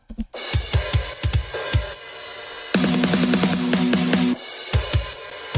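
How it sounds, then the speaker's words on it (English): An acoustic drum kit plays a busy groove of punchy kick and snare hits with bright cymbals, including a sustained crash-washed stretch in the middle, close and loud. "The real drum sounds like this"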